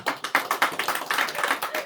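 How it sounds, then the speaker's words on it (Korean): A church congregation applauds during a Sunday morning service, a brief burst of moderately faint, quick, irregular claps from many hands with no voices over it. "우리 박수 한번."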